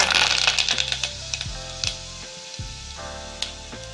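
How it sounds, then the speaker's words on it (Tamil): Mustard seeds splutter and pop in hot oil, a dense run of sharp crackles and sizzling bursts that thin out toward the end, close and fairly loud with no talking. "எண்ணெய் சூடாகிடுச்சு இதில் கொஞ்சமாக நம்ம கடுகு போட்டுடலாம்"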